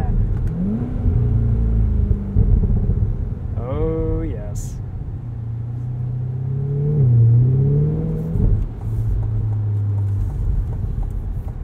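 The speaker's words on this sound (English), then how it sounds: "You really get to hear the exhaust with the top down" Exhaust of a 2020 Chevrolet Corvette Stingray Convertible driven with the top down, a steady low drone that swells and shifts pitch through gear changes, with someone talking over it much of the time.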